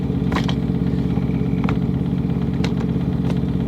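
Broken Ford Mustang engine idling with a steady low rumble while gears are shifted, a few brief clunks and clicks cutting through as the clutch is worked.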